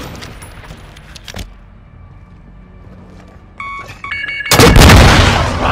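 Rocket fire in a Call of Duty: MWII team deathmatch, with sharp metallic clatter and shots building into a sudden, loud, broad blast near the end after a quieter stretch.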